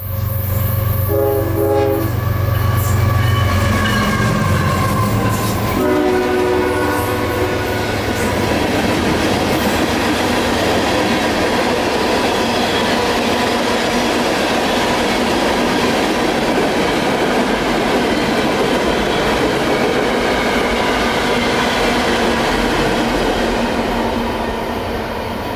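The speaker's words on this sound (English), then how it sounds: "There goes the whole train with no edits." A freight train hauled by a GE locomotive passes close by, its horn sounding in the opening seconds before a long, loud, steady rumble and clatter of railcars rolling past for the rest of the clip.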